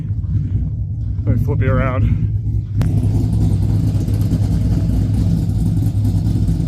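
A Chevrolet Trailblazer 4x4 engine rumbles steadily nearby with a low, throaty idle outdoors in the cold; someone speaks briefly over it near the start.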